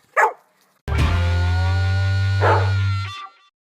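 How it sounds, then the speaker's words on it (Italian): A single short yelp followed by a long, sustained whining howl from a dog, close and loud, with a steady low hum underneath. "Chi è che abbaia?"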